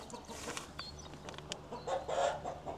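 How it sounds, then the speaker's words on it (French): Hens clucking inside a small ventilated greenhouse-style coop, soft irregular clucks and murmurs at moderate distance, with one brief louder squawk near the end and no talking. "Là il y a une petite serre ventilée. Avec des poules dedans. Elles sont juste là."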